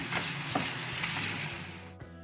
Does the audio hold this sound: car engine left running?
no